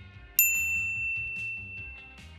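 A notification bell sound effect rings once as a bright, clear ding that decays into a lingering tone over soft background music.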